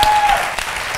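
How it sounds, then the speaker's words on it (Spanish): Audience applause breaks out at a live interview event, a dense wash of clapping filling the moment, close and fairly loud, with a brief voice mixed in at the start. "¡Un aplauso, por favor!"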